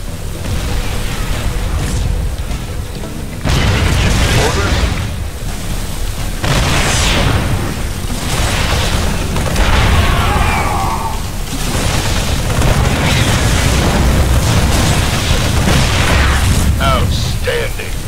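Explosions in the StarCraft II Wings of Liberty campaign: repeated loud booms and bursts layered over dense battle noise and game effects, continuous and close, with no pauses.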